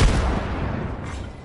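A frag grenade goes off in Apex Legends, a heavy booming blast that hits hard at the start and then rolls off into a fading rumble and debris hiss.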